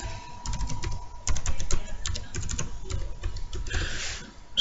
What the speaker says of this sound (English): So I'm putting in a password.